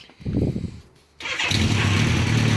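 A 1986 motorcycle with air suspension is cranked and fires up, a short whirring start attempt, a brief lull, then the engine catching into a loud, continuous running roar close by.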